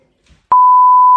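Phone beep, a sharp onset then a loud, steady pure electronic tone held to the end of the clip, heard alone without talk.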